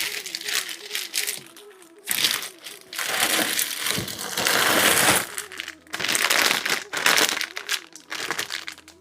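A plastic cover wrapped around a cardamom garland for a Sri Rama Navami offering crinkles in repeated close, loud bursts as it is handled, with a person speaking between and over the rustling.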